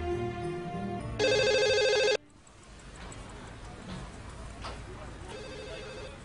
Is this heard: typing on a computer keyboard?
no